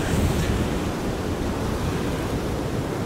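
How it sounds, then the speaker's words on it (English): Strong wind gusts across the Northumberland coast as sea surges into a rocky fishing spot, a dense, constant roar of surf and wind buffeting the microphone, loud and close throughout. "the wind's just picked back up quite strong"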